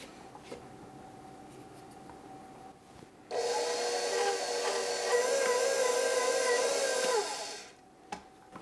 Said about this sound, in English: I'm scraping some of the wetter dough off the hook